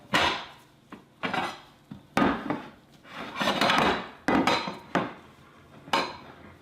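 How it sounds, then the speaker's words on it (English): Plates taken out of a kitchen cupboard in a home kitchen, several separate clattering knocks of ceramic and wood, a handful of sharp nearby clunks spaced over several seconds with quiet pauses between. "Get 2 plates out."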